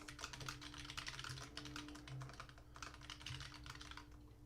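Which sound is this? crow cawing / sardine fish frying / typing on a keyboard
typing on a keyboard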